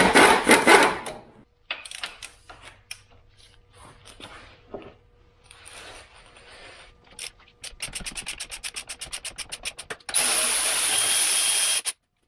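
A power tool works on a track bar bolt of a Jeep Wrangler Rubicon JLU during a lift kit install, running in bursts of whirring and rattling with brief pauses, ending in a loud steady buzzing run.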